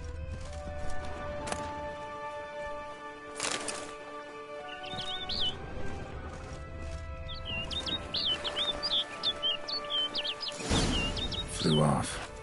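A bird chirps and tweets in a series of quick calls in The Witcher 3: Blood and Wine, set against a muted game ambience with a few soft thuds and a voice speaking.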